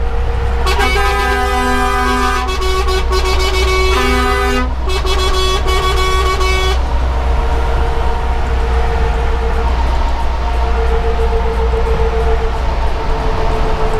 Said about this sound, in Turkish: maşallah var iyi korna